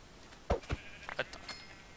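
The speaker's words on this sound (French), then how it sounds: "Il va falloir qu'on trouve un moyen de ramener ces fichus moutons." Sheep in the video game Minecraft bleat in a few short, separate calls, moderately loud over a quiet background.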